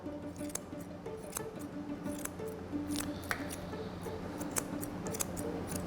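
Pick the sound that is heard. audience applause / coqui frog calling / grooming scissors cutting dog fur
grooming scissors cutting dog fur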